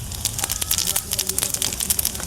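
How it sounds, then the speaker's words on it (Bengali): Onions crackle and sizzle in a hot pan at an outdoor village cooking spot, with dense, busy popping close to the listener. "পেঁয়াজ ভাজা প্রায় কমপ্লিট"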